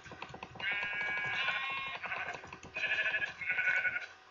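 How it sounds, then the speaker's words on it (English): Minecraft sheep bleat repeatedly in the video game, a wavering cry that comes in several bursts over steady clicking and tapping of the game controls. "Sheep! Come here, sheepy."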